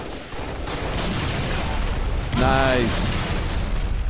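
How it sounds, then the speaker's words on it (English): Explosions and gunfire in a Halo: The Master Chief Collection multiplayer mod, a loud continuous rumbling barrage with a sharper burst midway, while someone briefly speaks over it. "Explosions have a little bit more oomph to them."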